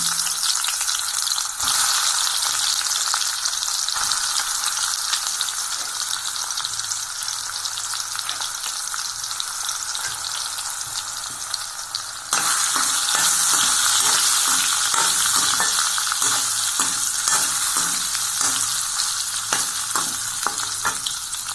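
Soya chunks frying in a pan give a dense, continuous loud sizzle for the whole stretch, joined midway by frequent light stirring scrapes.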